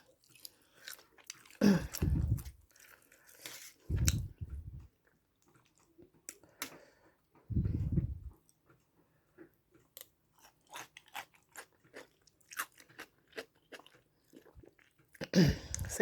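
Close, crunchy chewing of Thai cucumber som tam with fish sauce and pork bones, in several short bursts of bites and crunches separated by quieter chewing and small mouth sounds, no talking.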